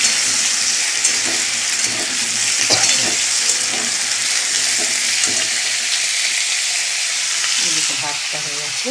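Potatoes fry with egg and onion in a pan, giving a loud, constant sizzle broken by scattered stirring scrapes and clinks.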